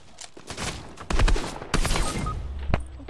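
Fortnite gunfire rings out in several sharp, loud bursts over about three seconds, with rapid shots clustered together and a final single crack.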